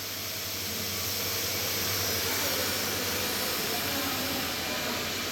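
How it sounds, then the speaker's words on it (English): The vacuum pump on a CNC engraving and milling machine with an automatic tool changer and rotary axis runs as a loud, steady, broadband roar and hiss with a low hum underneath, continuous throughout and with no talking. "This one is the vacuum pump."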